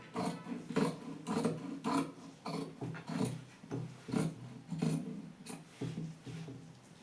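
Scissors cut through blouse fabric in a series of rhythmic, close snipping and rasping strokes, roughly one every half second, with no talking.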